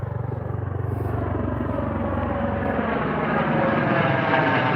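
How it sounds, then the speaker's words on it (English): Helicopter flying overhead, a loud rumbling rotor and engine drone with rhythmic chopping that swells slightly as it passes, heard alone without speech. "Here comes the helicopter."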